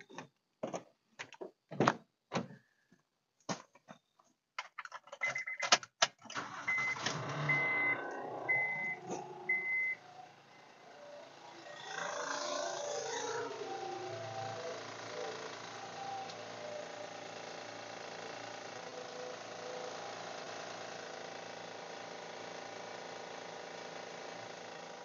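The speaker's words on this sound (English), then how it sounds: "we'll start her up and see if the belt's tracking good and make sure it ain't going to make some weird noises" A 2012 Honda Pilot engine with a bad idler tensioner pulley starting up: a series of clicks and clunks, then a steady running drone with a faint ticking whine layered on top, heard close and without speech.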